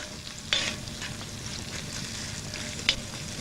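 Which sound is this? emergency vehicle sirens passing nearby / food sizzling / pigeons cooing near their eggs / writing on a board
food sizzling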